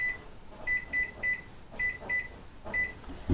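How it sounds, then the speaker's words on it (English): An oven's control panel gives a series of short electronic beeps in small clusters as it is set to preheat, sounding clear and close against a quiet kitchen hum. "first we're going to preheat the oven to"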